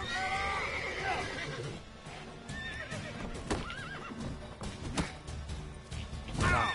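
A horse in Witcher 3 lets out several shrill neighs and whinnies, mixed with clip-clopping hooves and some shouted voices, the loudest whinny arriving near the end.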